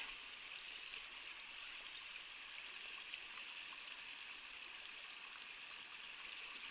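Running stream water flows steadily and softly at a campsite, a constant trickling wash with no voices.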